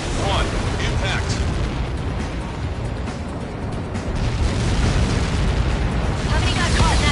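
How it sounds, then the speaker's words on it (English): A huge blast rumbles through a video game battle after an incoming projectile strike, a loud, sustained roar that swells again toward the end. "How many got caught in that explosion?"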